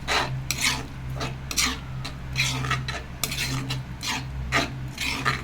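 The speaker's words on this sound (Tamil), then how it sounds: "ஊற்றிட்டு நல்லா கிண்டி விடுவோம்" Tomato masala for a pepper crab fry stirred in a pan, repeated rhythmic spoon scrapes and rasping strokes against the metal over a low sizzle, close and fairly loud.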